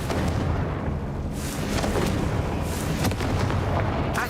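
Confringo spell explosions in the Hogwarts Legacy video game, a dense loud barrage of repeated booming blasts and bursts amid continuous battle noise.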